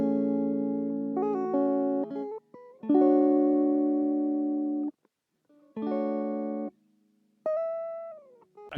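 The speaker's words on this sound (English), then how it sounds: "The next thing I added was an electric guitar." Soft, clean electric guitar chords ring out in sustained strums separated by short pauses, with a gentle slide at the end; no voices.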